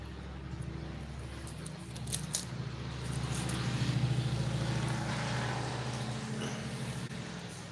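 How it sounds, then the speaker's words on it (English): A noisy truck passes nearby at night, its low engine drone swelling toward the middle and fading again, with faint clinks and rattles at the start and no talking. "Oh, noisy trucks."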